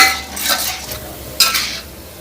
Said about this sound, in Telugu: వన్ టేబుల్ స్పూను మినపప్పు వేస్తున్నాను మంచి కలర్ వచ్చేదాకా వేయించుకోవాలి